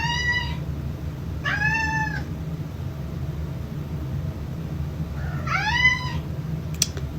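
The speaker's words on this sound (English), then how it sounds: "And my cat yelling." A cat yowls loudly three times, each call drawn out and rising, over a steady low background hum with no talk.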